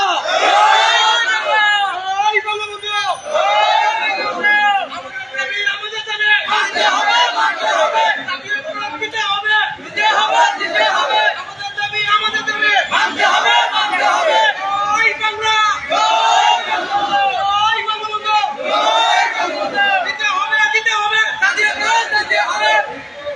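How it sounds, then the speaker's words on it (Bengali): A crowd of Bangladeshi village police protesters at a sit-in chants the slogan Joy Bangla, loud, massed voices repeating a rhythmic call-and-response throughout with a steady roar of shouting. "স্লোগান দাও জয় বাংলা জয় বাংলা"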